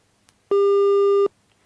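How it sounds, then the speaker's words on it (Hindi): A telephone busy tone sounds after a call in a Hindi news interview is cut off: a single loud, steady electronic beep of under a second, clear against near silence. "अवैध खनन का नाम तो सुनते ही रतिराम जी का फोन कट गया"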